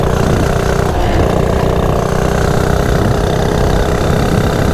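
A Coleman CT100U minibike engine with its governor removed runs at speed, giving a loud, steady, unbroken engine drone close by with a rough rushing texture.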